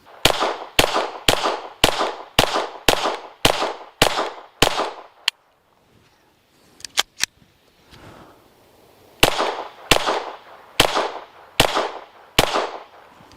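Rapid pistol gunshots from a handgun fitted with a SIG Romeo Zero micro dot sight, fired in quick succession: a run of about nine loud sharp cracks, a short pause with a few scattered shots, then another fast string of five or so.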